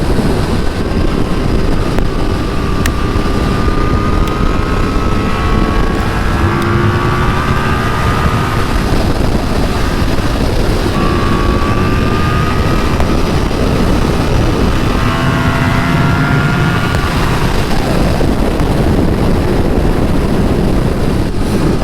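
Yamaha motorcycle ridden on a bumpy road during a group ride with FZ-10, R1, FZ1 and KTM Super Duke bikes, a loud constant engine roar with heavy wind rush and rising and falling revs throughout.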